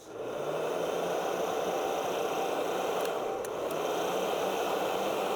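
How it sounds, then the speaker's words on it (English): A heat gun blows steadily on Tesla paint protection film, a loud constant airy roar with a low fan hum that starts at once and holds for the whole stretch. "I don't have like a blower right now, but we do have this heat gun"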